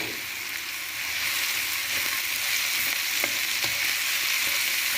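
Beans and mixed vegetables fry in a pan for spring roll filling, making a continuous close sizzle that grows slightly louder after the first second, with a few soft stirring clicks and scrapes.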